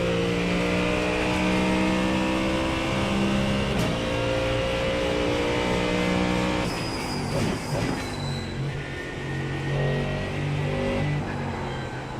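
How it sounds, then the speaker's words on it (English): Loud, sustained Mustang race car engine roar at high revs in iRacing, steady and close, with shifting pitch as the car accelerates and brakes. "this car sounds amazing"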